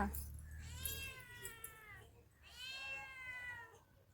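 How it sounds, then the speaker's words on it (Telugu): A house cat gives two drawn-out, close meows, loud and wavering, separated by a short pause. "మా పిల్లిని చూపించాలనా"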